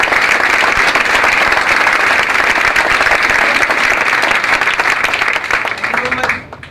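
An audience claps loudly for itself at a morning gathering, a thick, sustained roar of applause that carries on unbroken before cutting off abruptly near the end.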